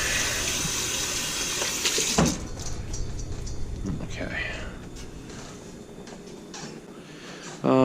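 Water from a home kitchen tap runs steadily as hands are washed beneath it, a close, hissing stream that tapers off, followed by a short clatter as it stops.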